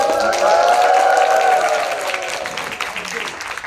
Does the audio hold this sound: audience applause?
yes